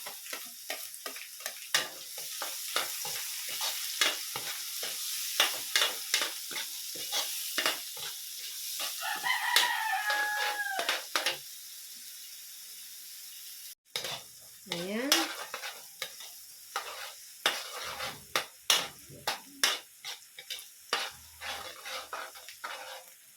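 Onion sizzles in hot oil in a pan, stirred for a Filipino menudo with a utensil that scrapes and clicks in a steady rhythm over a continuous frying hiss, close and moderately loud.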